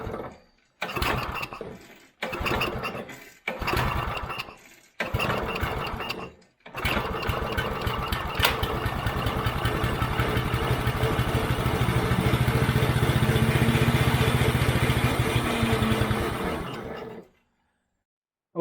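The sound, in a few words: old go-kart engine running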